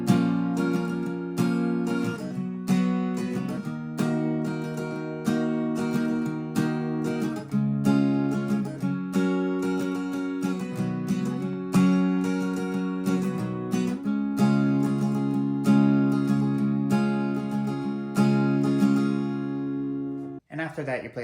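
Acoustic guitar strumming the bridge chord progression, steady and close, ringing chords continuing without pause until a final strum near the end.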